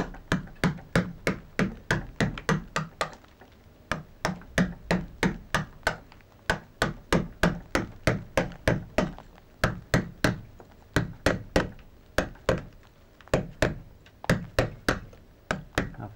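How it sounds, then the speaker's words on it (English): A hammer or mallet drives a chisel to chop out a simple leaf carved in stone at St Paul's, giving a long series of sharp, evenly spaced knocks that are loud and close with brief pauses. "I'm using a chisel to chop out an elementary leaf."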